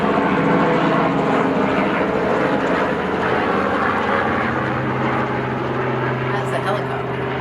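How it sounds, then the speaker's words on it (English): A helicopter flies overhead near an airport, a loud, steady rotor and engine drone that fills the whole stretch with a constant low hum. "That's a helicopter."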